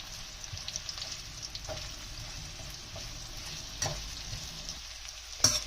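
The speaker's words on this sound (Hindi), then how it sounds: "अब उसके बाद हम इसको इस तरीके से इसमें चम्मच लगा हिलाएंगे।" Pieces of Sindhi phulka fry in a pan over a medium flame while a spoon stirs them, giving a soft, steady sizzle broken by light scraping taps and a sharper clink near the end.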